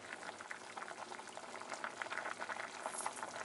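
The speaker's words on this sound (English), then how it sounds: "fettuccine is bubbling away" Fettuccine boiling in a pot alongside vodka sauce with garlic and tomatoes, giving a steady close bubbling and gurgling that holds evenly at moderate level throughout, with no talk.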